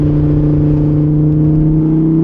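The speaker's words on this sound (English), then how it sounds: "To put the top down, hear that engine" A Lamborghini Huracan Evo Spyder's engine heard from inside with the top down while driving, a loud, steady low drone with strong humming tones and a continuous rumble.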